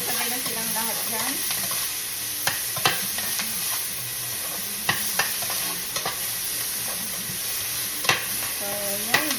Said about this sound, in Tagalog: Lagyan na natin yung ating onion, chili, at ang ating luya.